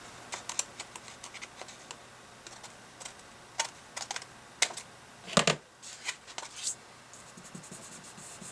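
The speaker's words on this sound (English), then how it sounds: "just gonna go ahead and do that, and then trim this edge here." A Happy Planner page edge being trimmed, heard as scattered close snips and scraping clicks in irregular bursts with one longer rustle in the middle, no voices.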